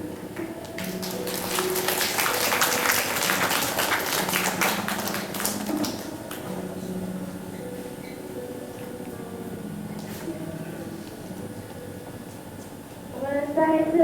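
A church congregation applauds at a youth ministry memorial Sunday service: a dense burst of clapping under a speaking voice for several seconds, then fading as the talk continues alone.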